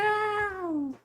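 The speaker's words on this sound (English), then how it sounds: "I thought that was just a random cat sound." A cat lets out a single loud, close meow right by the microphone, a clear drawn-out cry lasting about a second that slides gradually lower in pitch before cutting off.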